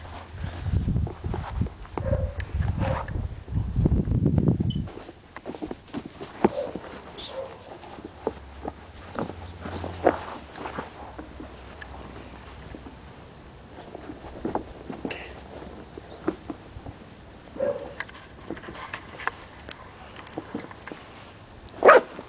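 A dog barking at home during a play session with a duck, a burst of loud barks at the start followed by fainter scattered barks and footsteps.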